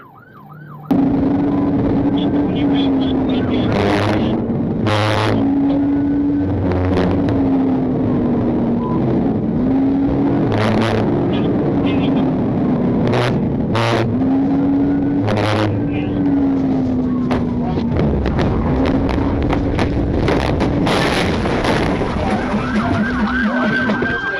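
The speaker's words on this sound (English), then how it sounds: "A precise pit maneuver forced the suspect's vehicle off the road and into small trees" A police cruiser in a nighttime-style pursuit wails with a loud, continuous siren cycling up and down, along with engine and road roar and sharp radio-like bursts. Voices talk intermittently over the chase noise.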